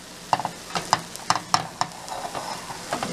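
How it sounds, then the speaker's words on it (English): A keto pizza cooking in a pan, a soft sizzle under a series of sharp utensil scrapes and taps against the pan, close and moderately loud with no speech. "So I'm just going to let this other side cook a little bit"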